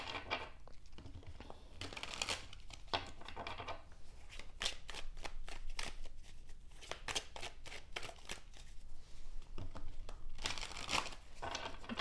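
Tarot cards being shuffled by hand at close range: repeated riffling bursts and softer papery slides alternate in an irregular rhythm, with no voices.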